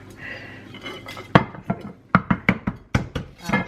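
A cheesecake dropping out of a saucepan onto a plate, heard as a burst of sharp, close clattering knocks and clinks of crockery and pan, a few quick hits in a row.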